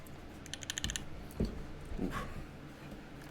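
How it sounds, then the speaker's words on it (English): Typing on an Iron 165 SE mechanical keyboard gives a short, uneven burst of clacky keystrokes, fairly faint and close, followed by a few scattered heavier thocks. "I'm gonna type a bit,"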